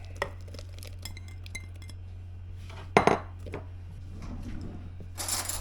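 Sourdough bread ingredients, including cheddar and jalapeno, being added to a bowl in a kitchen: scattered light clinks and taps of dishes and utensils over a steady low hum, with one louder clatter near the middle.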